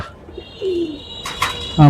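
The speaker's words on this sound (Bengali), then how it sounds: "এই কবুতরটা" A pigeon gives a low, soft coo nearby, followed by brighter chirps and rustling close to the listener.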